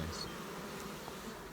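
Bees swarm around an open beehive during an inspection in warm weather, producing a steady, dense buzzing hum close by, with no voices.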